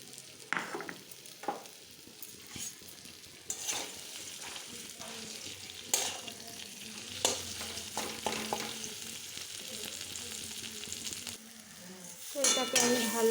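Sweetened food frying and being stirred in mustard oil in a wok: a close, steady sizzle with frequent scraping and clanking stirs at an irregular pace, and a louder burst of scraping at the end.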